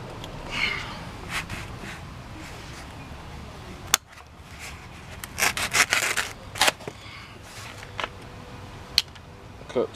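A chunk of foam pipe insulation is cut by hand with intermittent rasping, sawing strokes that come in close, uneven bursts, with one sharp click partway through.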